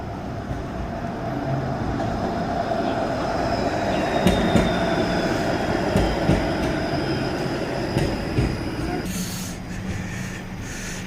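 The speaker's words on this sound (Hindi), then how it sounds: "और ये तीसरी ट्राम यहाँ से गुजर रही है।" A streetcar rolls past on a Toronto city street, a loud, steady rumble of wheels on rails with faint squeals and clicks, heard close over continuous street noise and some speech.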